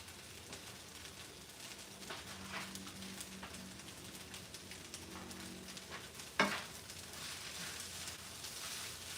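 Fully loaded veggie fried rice with peppers and Shanghai bok choy sizzles in a pan, a steady close crackle broken by stirring scrapes and one sharp clank of the utensil.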